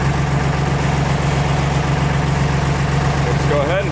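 A Deutz Fahr tractor engine idles steadily with the PTO engaged, a continuous low rumble that stays constant and close throughout, with a brief squeak near the end.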